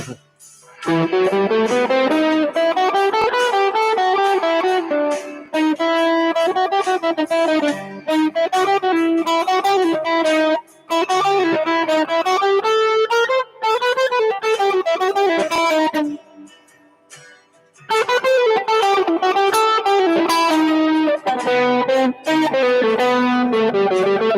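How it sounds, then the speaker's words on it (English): Electric guitar played live with a distortion effect, sustained driven chords and melodic lines ringing loud and close, with brief pauses between phrases. "Do not like that distortion at all."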